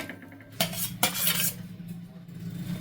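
A knife cuts a bread omelette into pieces in a pan, making two sharp metallic clinks followed by soft scraping, faint and close, with no talking.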